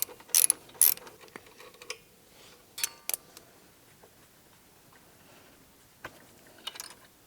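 Ratchet with a 14mm socket working the side stand bolt on a Honda CRF300L motorcycle: a few sharp, close clicking bursts separated by quiet pauses, no talking.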